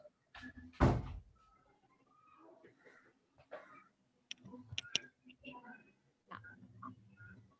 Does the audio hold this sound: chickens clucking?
no